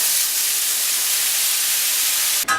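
Shrimp and garlic hit very hot oil in a pan, giving a loud, even hiss that holds steady before a sudden sharp break near the end.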